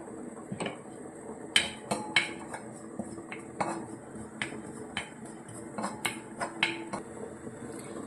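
A quarter spoon of ajwain (carom seeds) dry-roasting in a pan, stirred with a metal spoon that gives sharp, irregular clinks and taps against the pan over a quiet background.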